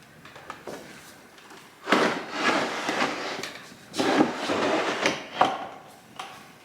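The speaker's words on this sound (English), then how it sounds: "I'm going to swivel this base." A wooden table base swivels on sticking tracks, giving rough rubbing and scraping bursts with wooden knocks, close up and uneven, with no speech.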